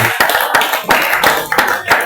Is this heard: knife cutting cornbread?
no